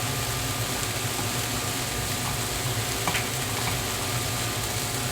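Butter sizzling and frying on a flat griddle while cooking a Harlem chopped cheese sandwich, a steady dense hiss that continues without a break and with no talk over it.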